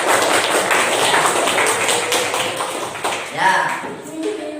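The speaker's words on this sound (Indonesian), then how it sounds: "Tepuk tangan untuk kelompok 4." Classroom applause for group 4: a dense, steady patter of many hands clapping at once, fairly loud, fading out in the last second or so as a few scattered claps and stirrings remain.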